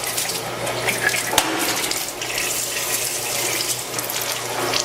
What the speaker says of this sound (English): using the oil that is flowing out, we can begin washing down our fryer